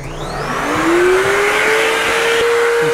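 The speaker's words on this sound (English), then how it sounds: "Let's turn on the vacuum." A vacuum cleaner whines steadily and loudly, its motor pitch rising as it spins up.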